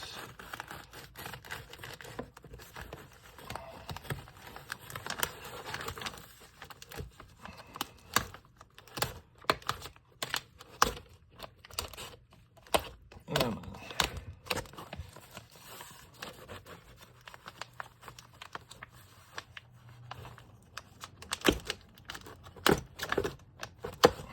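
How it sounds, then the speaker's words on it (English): Dense, irregular clinking and rattling of small cast metal parts shuffled around in a plastic bag, close up, with no talking. "we've got a bag full of cast parts, metal parts"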